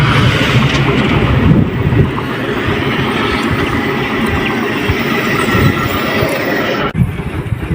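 Narail Express train passing, a loud, steady rumble of rail cars rolling by close to the microphone with wind buffeting, continuing for several seconds before cutting off abruptly near the end.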